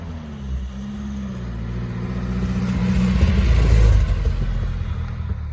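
A Nissan D21 Hardbody truck fitted with 13x7 wire wheels drives past, its engine rumbling low and swelling louder as it accelerates, then easing off near the end.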